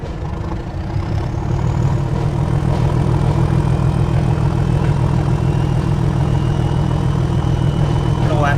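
A heavy diesel engine of a Class 37 locomotive in the game Train Sim World idles loudly and steadily with a deep, throbbing rumble that holds constant throughout.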